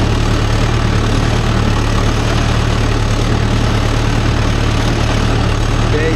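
A Mahindra Yuvo Tech Plus 585 4WD tractor engine runs steadily, pulling a cultivator in a field, with a loud, close, unbroken low rumble and diesel chug.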